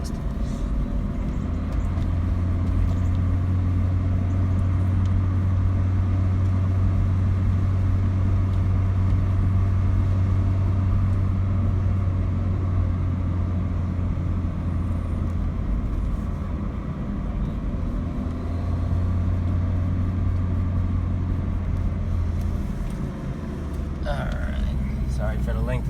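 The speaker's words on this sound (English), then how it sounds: "Sounds pretty nice with the Abbott exhaust." A Saab 900 Commemorative Edition with an Abbott exhaust idles steadily, a deep, even engine drone close to the exhaust, while someone talks over it.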